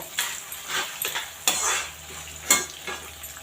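Chana dal roasting in hot oil in a pan for temple-style puliyotharai, with a steady sizzle broken by several scraping stirs of a spatula, close and clear with no talk.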